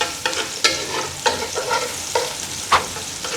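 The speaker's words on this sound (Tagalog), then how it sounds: "Sautay lang natin siya ng for few minutes" Dried tuyo fish sautés in a pan for a pasta dish, a soft frying sizzle under four or five spaced scraping strokes of a spatula, close and alone.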